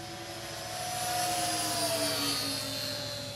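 A small GWS P-38 model airplane engine whines steadily at high pitch, swelling slightly louder mid-clip as it flies past, with no voices.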